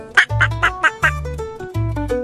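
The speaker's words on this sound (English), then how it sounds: "Mama duck called quack, quack, quack" Cartoon-style duck quacks in the Five Little Ducks nursery rhyme, a quick run of bright, nasal quacks layered over a sung children's tune with a steady backing track.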